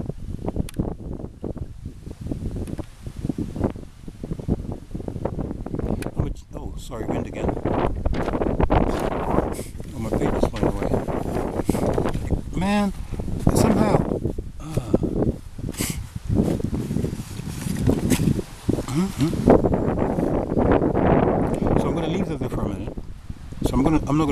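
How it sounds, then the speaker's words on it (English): Gusty wind buffets the microphone with a steady low roar throughout, while a person talks over it. "it's so windy"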